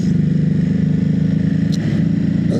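A Ducati Hypermotard 950 motorcycle engine idles close by with a loud, throbbing, steady pulse and a brief higher rev blip near the end, outdoors on a street.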